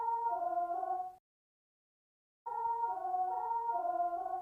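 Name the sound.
synthesized choir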